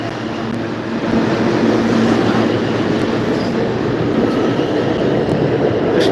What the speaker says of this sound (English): Let this train go by first.